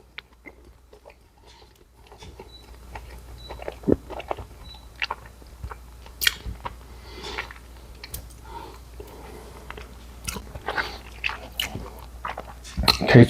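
Close, wet chewing and biting of a soft Crumbl yellow cake with chocolate icing, with irregular crunchy bites and mouth sounds throughout and a louder burst near the end.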